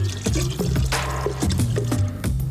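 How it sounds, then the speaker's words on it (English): Water is poured into a vase, giving a close run of splashy, gurgling pours and drips with irregular bursts, fairly quiet and with no talk. "we are going to fill another vase with water"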